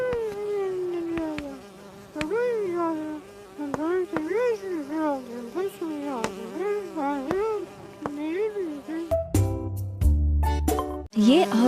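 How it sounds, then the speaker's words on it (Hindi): Bees buzzing in a series of close, wavering drones that rise and fall in pitch. A few abrupt, louder knocks and rustles follow at the end. "मनुष्य के गणित का आविष्कार करने से पहले ही मधुमक्खियों ने षटभुज का आविष्कार"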